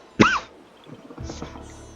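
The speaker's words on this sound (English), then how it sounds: "Sorry for my coughing." One sharp cough, then a quieter, rougher throat sound after a short pause.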